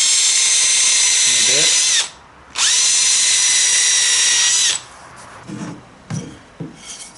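A power drill bores into wood for the thwart knees of a wooden Acorn dinghy, two loud, sustained whirring bursts separated by a brief pause, followed by quieter handling knocks and rubbing.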